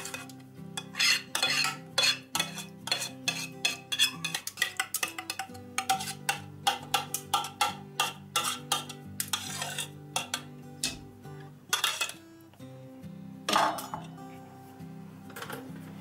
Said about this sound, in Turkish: Bunu boşaltıyoruz tenceremize.